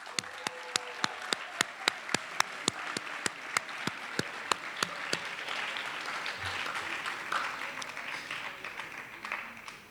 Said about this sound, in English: Please join me in a round of applause to our students.